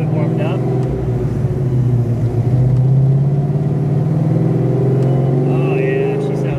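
A supercharged 1993 Ford Mustang Fox Body runs with a steady, loud, close engine drone that swells slightly midway. Voices can be heard faintly under the engine.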